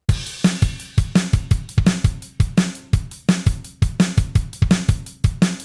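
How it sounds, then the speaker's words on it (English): A punchy rock drum beat from a song, with a steady kick and sharp snare backbeats, repeating a tight groove over several bars with no other instruments. "And the drums play this beat."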